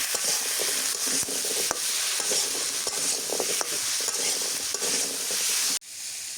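Leafy greens sizzle loudly in a pan with garlic and onion paste, a steady broadband frying hiss with scattered stirring clicks, cutting off abruptly near the end.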